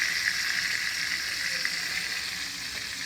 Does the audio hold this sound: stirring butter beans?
yes